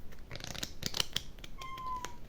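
A cat meows indoors, a few short close calls in quick succession over quiet background.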